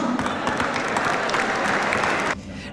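An audience applauds at a Portuguese community event in Montreal, with dense, steady clapping that stops abruptly near the end.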